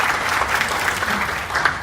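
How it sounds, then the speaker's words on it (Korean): Applause from an audience welcoming a guest at a ceremony in Yeongjong Island's Midan City Good Mall, a steady, dense burst of clapping heard alone and fairly close. "큰 박수 부탁드립니다"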